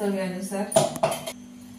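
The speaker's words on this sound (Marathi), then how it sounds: "आपण हे चांगलं मिक्स करून घेऊ।" Spoon mixing chana dosa batter of gram flour and water in a bowl, a couple of close scraping clinks against the dish after a voice talks at the start, then quieting.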